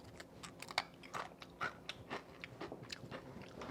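Someone chews a homemade ice cream cone made from Captain Crunch cereal, a slightly chewy, undercooked bit, giving close, quiet crunches and bites in an irregular rhythm with no talking.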